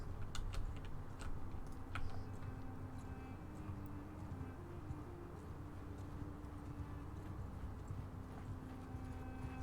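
Horses' hooves clopping in the video game Mount & Blade II, a steady rhythmic patter under a dense layer of game ambience, with sharper clicks scattered through it.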